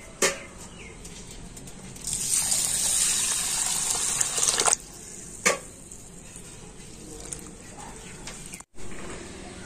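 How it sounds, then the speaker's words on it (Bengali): Water pours and swishes over sago pearls in a bowl as they are rinsed, a steady rushing wash for a couple of seconds followed by a few knocks and handling sounds, close by, with no talking. "আর এখন আমি এই সাবুদানাটা জল দিয়ে খুব ভালো করে ধুয়ে নেব।"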